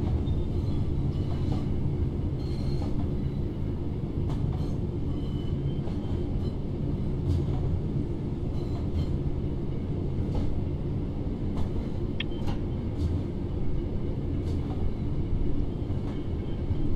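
A Class 323 electric train in Train Sim World 4 runs steadily, a continuous low rumble of wheels and motor with faint clicks and rattles over the track, no talk.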